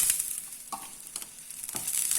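Chillies, curry leaves, tamarind and asafoetida frying in a pan with a soft steady sizzle, broken by a few scrapes of stirring; no voices.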